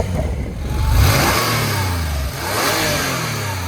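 A 1986 Porsche 911 Targa engine revs, heard from outside, rising to a loud throaty peak near one second, easing back, then swelling again in a second rev before settling.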